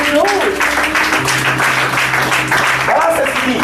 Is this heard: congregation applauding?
yes